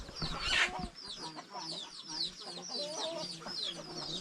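Chickens cluck repeatedly at close range in a rural village deep in the forest, with a burst of noise near the start and a busy rhythm of clucks continuing throughout.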